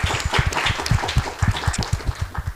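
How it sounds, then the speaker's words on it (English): An audience claps warmly in a short, brisk burst of applause, the individual claps fairly close and rhythmic, with no talking over it. "A warm hand of applause."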